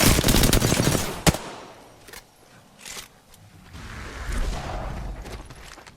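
Rapid automatic gunfire rattles loudly in Apex Legends, then breaks into a few isolated sharp shots and distant bursts over quieter stretches.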